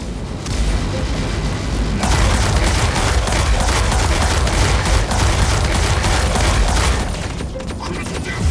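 Heavy incoming weapons fire in the Mech Arena mech combat game, a loud, dense barrage of gunfire and booming impacts that runs steadily for most of the clip with no pauses.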